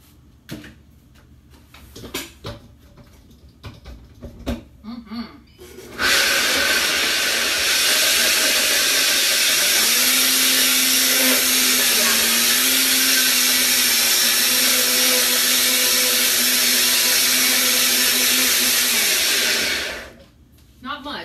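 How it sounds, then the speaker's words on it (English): A few soft clatters, then a blender starts up and runs loudly in a steady, high whir for about fourteen seconds before cutting off, blending a vegan mac and cheese sauce. "So excuse this noise because this blender is noisy."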